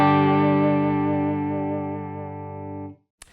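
Clean electric guitar chord played through a stereo pair of Yamaha THR100HD amp heads, ringing out with a long, smooth decay for about three seconds before cutting off.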